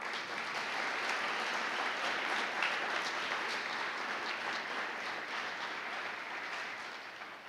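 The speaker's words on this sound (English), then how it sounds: "a nice round of applause for their generous support." Steady round of audience applause at a school ceremony honouring a National Blue Ribbon school, dense clapping holding evenly for several seconds at moderate distance before easing slightly at the end.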